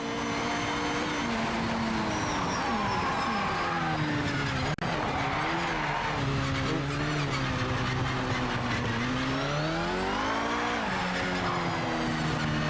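Race car in the Project Motor Racing video game losing grip, a steady engine drone with pitch swings as revs rise and fall, tires scrubbing and squealing through the slide, continuous and close with no talk.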